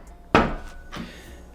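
A cork stopper is pushed back into a Pappy Van Winkle Lot B bourbon bottle with a close, sharp woody knock followed by a softer second tap, heard alone in a quiet room.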